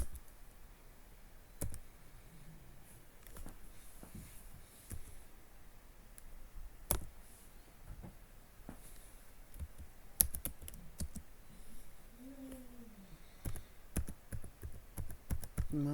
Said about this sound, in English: I think I'm typing something wrong.